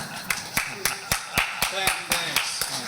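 Scattered, sparse clapping from a small audience at an evening public information session in Jupiter, Florida, welcoming the town's mayor; about ten distinct claps spaced unevenly over a few seconds, moderately close, with no voices over them.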